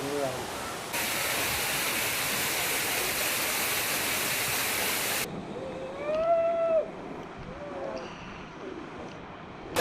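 Waterfall in Bali, a broad, loud hiss of rushing water that cuts off midway, giving way to quieter surroundings with faint birdlike calls and a voice.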